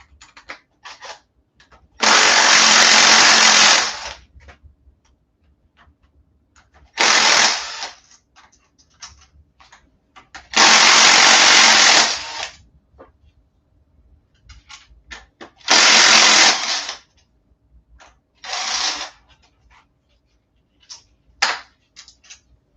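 Bolts are driven out of a 4.8L V8 engine during disassembly with a powered ratchet or impact tool, giving five loud buzzing bursts of one to two seconds each, separated by quiet gaps with light clinks.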